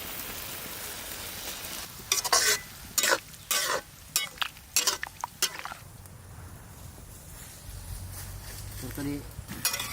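A Bengali-style curry of shingi and magur fish with garlic tempering, turmeric and chopped thankuni leaves bubbles in a pot while a spoon scrapes and stirs in several loud bursts, then settles to a steady low simmer.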